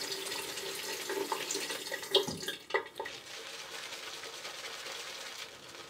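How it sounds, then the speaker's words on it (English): A bathroom tap runs briefly to wet shaving soap for lather, giving a faint, steady trickle of water with a few splashes and clinks near the middle. "Get a little bit of water going."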